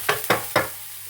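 Potato and onion frying in a pan for Spanish tortilla, three quick close stirring scrapes in steady rhythm, each followed by a brief burst of sizzle before the frying settles to a low hiss.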